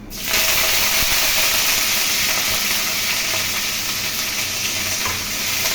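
Curry leaves crackle and sizzle in hot oil in a cooking pan, a steady loud frying hiss that lasts throughout with no talking.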